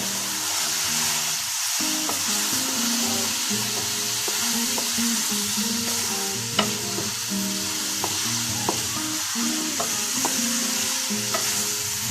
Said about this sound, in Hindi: अच्छे तरीके से मसाले में आपने इसको मिक्स कर लेना है